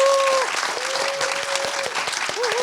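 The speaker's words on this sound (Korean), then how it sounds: "힘찬 박수와 함께 시작하도록 하겠습니다." Hearty audience applause at a talk concert on entrepreneurship held at the Korea Research Institute of Chemical Technology: steady, dense clapping throughout, with a sustained tone ringing over it.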